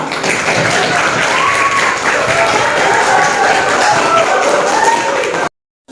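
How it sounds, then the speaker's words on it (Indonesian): A class of students applauds during a lesson, with steady, dense clapping from many hands that stops abruptly near the end. "Tepuk tangan buat"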